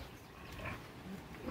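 A boar pig grunts in a farm setting before castration, with short low rough grunts close by over faint background noise.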